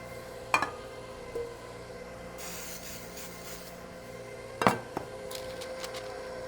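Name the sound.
greasing the sides of a deep dish cake pan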